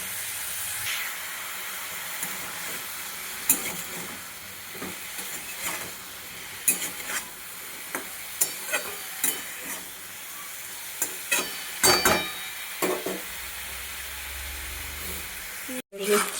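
Whole cumin, onion and garam masala fry in a pan with a steady soft sizzle, broken by repeated clinks and scrapes of a stirring utensil against the metal.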